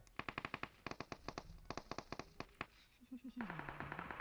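Gunfire in the shooter game PUBG Mobile, rapid bursts of automatic shots in quick clusters, fairly close, with a voice speaking over the end.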